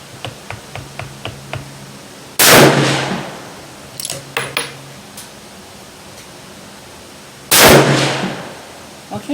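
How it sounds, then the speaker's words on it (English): Two loud, sharp rifle shots from a Seekins Havak Bravo 6.5 Creedmoor, several seconds apart at close range, each with a short decaying tail, between small clicks and metallic handling sounds. "I'm going to take 2 more shots and push out to 50."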